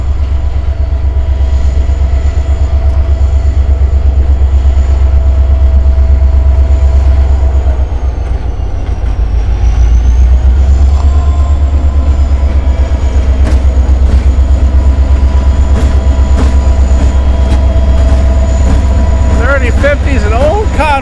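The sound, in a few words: freight train with old Conrail locomotive 3050 passing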